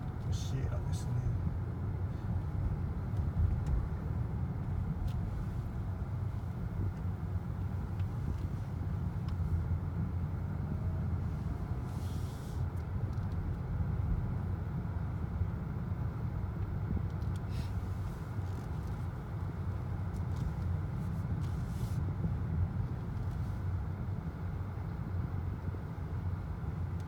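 Inside a Honda Clarity Fuel Cell car on the move, a steady low road and cabin rumble runs throughout, with occasional faint voices.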